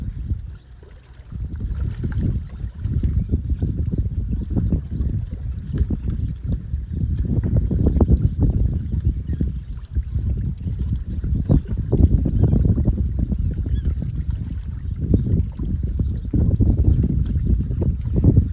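Continuous low sloshing and churning of water as someone moves through it, with gusty wind buffeting throughout.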